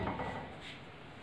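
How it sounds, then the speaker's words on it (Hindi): Raw meat dropped into a metal pressure cooker, a short close clatter and soft rubbing against the pot, quiet and brief with no talk. "ये प्रेशर कुकर ले लिया है, इसमें अब मैं ये गोश्त डाल रही हूँ।"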